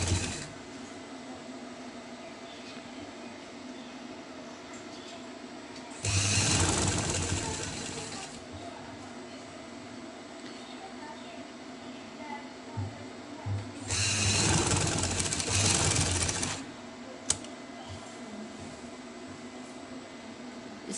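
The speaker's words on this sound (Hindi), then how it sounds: "इस तरह ऊपर हम पट्टी को सेट करेंगे और सिलाई लगाएंगे।" A sewing machine stitches a fabric strip for a winter garment in two steady whirring runs of a few seconds each, close by, over a constant low room hum.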